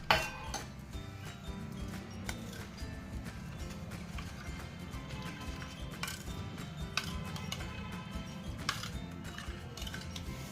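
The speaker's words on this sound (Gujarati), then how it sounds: "લાલ મરચું પાવડર પણ આપણે તેલમાં ઉમેરી દેશું અને સારી રીતે એને ચલાવી લેશું" Red chili powder and spices are stirred into oil in a pan for a sweet lemon pickle, with repeated light metallic clinks and scrapes of a spoon against the pan over a faint background.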